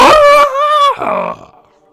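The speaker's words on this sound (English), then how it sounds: "You hear multiple screams of unknown entities come out of its howl." A monster's howl mixed with layered screams from unknown entities, a horror sound effect in a tabletop role-playing game, rising and wavering with tonal wails for about a second and a half before fading out.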